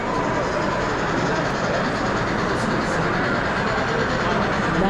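A toy model train runs at a toy train show, giving a steady, loud continuous rumble with a faint clickety-clack and busy hall noise throughout.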